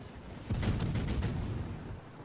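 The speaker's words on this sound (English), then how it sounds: "He tries to shoot at me with his rear turrets and shoots a little high" Warship rear turrets firing in World of Warships, a single booming salvo that bursts in suddenly and rumbles on as a loud, decaying roar with crackling impacts.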